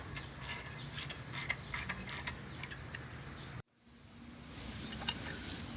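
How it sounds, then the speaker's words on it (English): A ratchet tightens brake caliper bolts on a car's rear brakes with a run of quick, close clicks and ticks, then stops, leaving faint background hiss. "then you use your ratchet to tighten it down the rest of the way."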